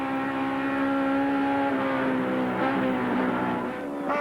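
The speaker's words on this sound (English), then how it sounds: "we take 7's race cam and see Brock working hard at the wheel" Touring car engine at full throttle on the Mount Panorama circuit at Bathurst, 1988 Asia-Pacific Touring Car Championship, a loud continuous onboard roar with the pitch shifting through gear changes.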